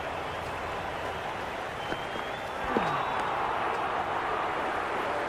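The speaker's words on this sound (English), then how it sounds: "The crowd is electric right now." Steady crowd roar from spectators in the cricket video game Cricket 26 during Pakistan vs New Zealand, continuous and fairly loud with a brief swell midway, heard without clear talk.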